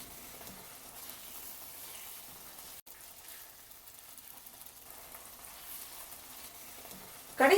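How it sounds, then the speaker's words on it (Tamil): Eggs fry gently in a thick egg kurma gravy, a faint, steady low sizzle running throughout with one brief click, and a voice starts just at the end. "முட்டையை சேர்த்துட்டு அதை லைட்டா புரட்டி விட்டுக்கோங்க."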